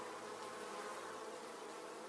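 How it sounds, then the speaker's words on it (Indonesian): Honey bees swarm around a nest with a faint, continuous buzzing hum that holds steady for two seconds, no voices present. "Di sana ada sarang lebah madu."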